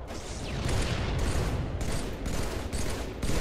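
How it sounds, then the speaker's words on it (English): A minigun fires in a Halo match, with loud, sustained rapid-fire bursts broken by short pauses and heavy, close and dense gunfire throughout, with no talking. "Get the old minigun set up."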